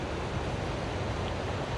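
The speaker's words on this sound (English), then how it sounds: "they're releasing a lot of water right now in that bridge." Water rushes in a dense, steady roar from the Leaburg Dam release on the McKenzie River, broadband and unbroken with no voices.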